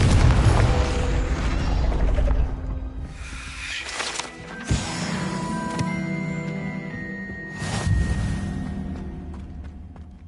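Confringo blasting curse exploding in a video game, a run of loud booming bursts and crackling debris separated by short lulls, with metallic ringing tones trailing between blasts.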